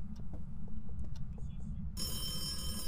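A telephone rings in the Phasmophobia ghost-hunting video game, a steady bright ring starting partway through and continuing to the end, with low rumbling background and faint voices before it.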